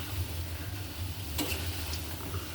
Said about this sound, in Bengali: একটু লাল লাল করে ভেজে বড়াগুলোকে নাবিয়ে দেবো